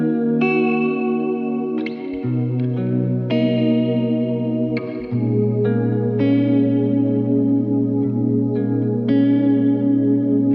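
A basic synth pad plays sustained chords layered over a chorus-drenched guitar in an R&B-style track, the chords shifting slowly and steadily with no voices.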